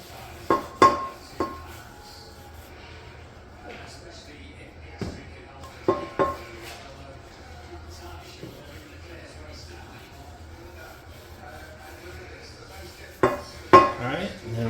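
A cast iron skillet being restored is flipped over with a pot holder, giving a few sharp metallic clanks and knocks in small clusters, louder near the start and end, with quieter handling between and talk nearby.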